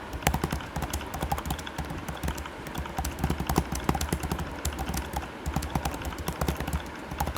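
Rapid typing on a computer keyboard during a typing test, a dense, fast run of sharp key clicks close up, continuing steadily with no talking.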